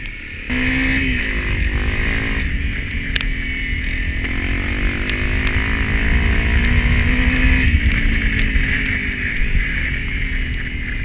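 A Honda CRF250 Rally off-road motorbike rides on dirt, its single-cylinder engine droning close and loud throughout, with the pitch rising and falling as the throttle changes.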